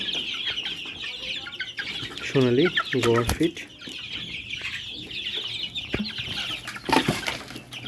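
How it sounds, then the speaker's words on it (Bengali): Egyptian Fayoumi farm chickens, 44 days old, cluck and squawk busily at feeding time, a close, steady chorus with a few louder calls, while someone talks over them. "আজকে হচ্ছে আমার মিশরীয় ফার্ম মুরগির 44তম দিন। এদেরকে খাবার দিতে আসছি"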